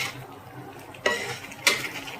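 Makhana (fox nuts) with raisins and a little sugar being stirred and roasted in a pan, a steady scraping and rattling roast with two sharper utensil scrapes, close and alone.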